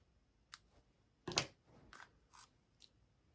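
Scissors snipping a vanilla weave ribbon bow, a few quiet, sharp cuts spaced over a couple of seconds, close and alone.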